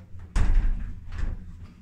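An old pub door at the Skipworth Arms in Moortown, West Lindsey, swings open with a sudden low thud and a rattling creak, followed by a softer second knock as it settles.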